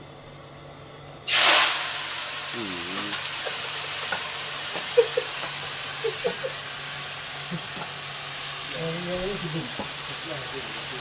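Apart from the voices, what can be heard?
vegetables sizzling in hot wok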